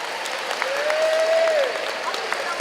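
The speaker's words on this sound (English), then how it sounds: "let's give my friend a big round of applause" Audience applause at a high school speaker series event, welcoming a student volunteer to the stage: a steady, moderately loud patter of clapping from a crowd, with a faint whistle-like tone running through the middle.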